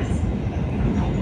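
Steady rumbling train noise with a constant rolling roar, close and loud, no talking, heard aboard a train in Japan approaching Hamamatsucho.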